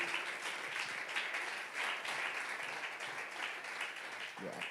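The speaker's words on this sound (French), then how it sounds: "Can we clap for the word of God?" A church congregation claps and applauds during a sermon, a steady wash of fairly faint applause that fades toward the end.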